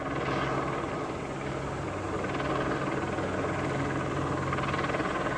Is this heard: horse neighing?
no